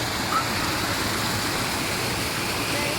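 Water rushes through irrigation channels released from Pathazhakundu Dam, a steady, dense roar that stays constant and fairly close throughout.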